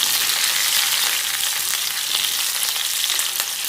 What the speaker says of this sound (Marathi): लसूण चांगला चरचरीत झाला म्हणजे त्याच्यात 1 मिरची घेतली.